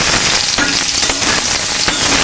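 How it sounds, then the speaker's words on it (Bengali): Marinated soybean chunks frying in hot oil in a kadai give a loud, steady, dense sizzle with scattered crackles and pops throughout. "এখন আমি মেখে রাখা সয়াবিনগুলো তেলের মধ্যে ভেজে নেব।"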